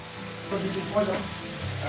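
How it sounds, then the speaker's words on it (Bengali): Ash gourd pieces frying in a pan, a brief close sizzle with a spatula scrape or two as they are stirred. "আমি চাল কুমড়োগুলোকে ভালো করে ভাজা ভাজা করে নিই"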